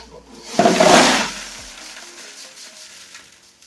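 Water pours in a burst while glacier gold concentrates are washed, a loud splashing rush that peaks early and then fades into a softer trickle.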